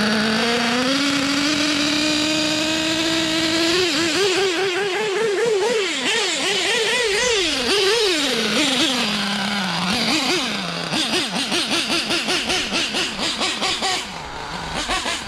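A small untuned Novarossi nitro engine in an RC truggy revs up from idle, its high buzzing pitch rising and wobbling through repeated throttle blips, loud and close, then pulsing rhythmically near the end.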